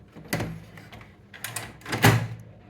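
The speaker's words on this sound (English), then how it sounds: "Okay, and insert it inside like that." Toner cartridge being pushed into a Samsung ProXpress laser printer and its door shut, giving a few separate plastic clunks and scrapes, with the loudest knock near the end, close by and no talking.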